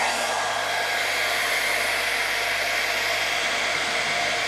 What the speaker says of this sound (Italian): Accendiamo il nostro phon.